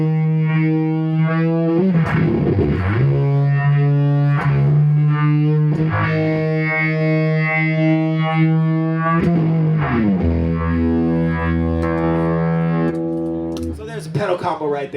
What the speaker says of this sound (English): Octavia fuzz into the depths, which is a univibey type pedal